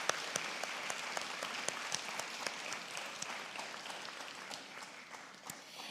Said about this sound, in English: Graduates, please take a moment to look around and give them a heartfelt round of applause